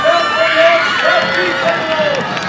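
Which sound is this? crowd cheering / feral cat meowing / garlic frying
crowd cheering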